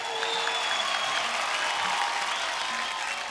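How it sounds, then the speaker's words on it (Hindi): Steady audience applause fills the studio for the Hungama 2 cast on a comedy talk show, a dense even wash of clapping heard alone at moderate level throughout. "एक बार जोरदार तालियां हंगामा 2 की सुपर टैलेंटेड कास्ट के लिए"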